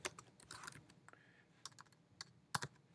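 Soft keystrokes on a computer keyboard tap out a terminal command in quick irregular bursts, faint and close, with a final sharper pair of presses like hitting enter.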